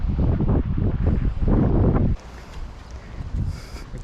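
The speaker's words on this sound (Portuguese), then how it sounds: "E o vento puxa para este lado." Wind gusts buffet the microphone on a Thailand coast during a fishing outing, loud rumbling bursts for about two seconds before dropping to a softer steady rush.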